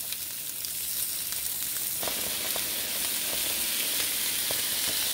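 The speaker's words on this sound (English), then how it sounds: "Yeah, I'm getting a nice sear right there, yeah." Short ribs sear on a smokeless indoor grill over high heat, a loud continuous hiss and crackle that intensifies partway through, with a few sharp pops.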